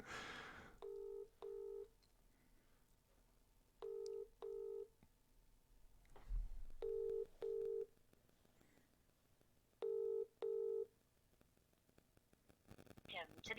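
A telephone call being dialed through to an EE voicemail: paired two-tone beeps repeat at steady intervals, four pairs in all, moderately loud, with faint room noise between them and a brief thump midway.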